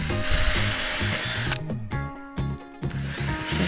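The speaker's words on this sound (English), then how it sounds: "First we drill the holes, and then we use the drill to put the screws in." A power drill whirs steadily while boring holes into a toy, then stops and restarts in short bursts, loud and close with no talking.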